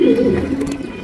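A stray racing pigeon gives one short, low, throaty coo up close, a single murmuring phrase lasting about a second.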